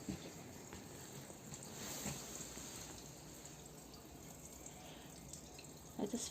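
Water trickling and dripping from a holy spring in Bitsevsky forest outdoors, a faint, steady splashing patter with a few louder gurgles near the end.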